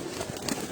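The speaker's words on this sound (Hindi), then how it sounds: "ये सारे परवाजी कबूतर हैं जो आपको दिखाए जा रहे हैं।" Racing pigeons cooing softly on a rooftop loft in Sialkot, a low murmuring coo rising briefly amid light background noise.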